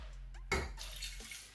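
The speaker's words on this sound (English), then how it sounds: "Next is to add clean drinkable water." Clean drinking water is poured into a cooking pot while preparing groundnut water, making a short quiet splash followed by a soft trickling, faint and close, with no talking.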